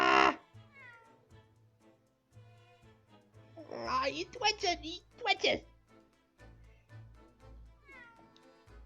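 A cat in the video game The Great Ace Attorney Chronicles meows in a loud, drawn-out burst of several cries near the middle, with a person talking quietly before and after.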